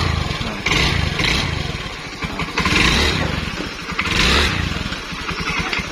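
A Beat FI scooter engine, just repaired after hard starting and stalling on throttle, runs close by, revved in about three bursts that rise and fall, with a steady idle putter between them and no talking.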